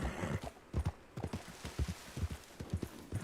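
Horse hooves clip-clopping in the Red Dead video game, a steady run of soft thuds at a trotting rhythm with a brief whinny near the middle, moderately quiet and heard without talk.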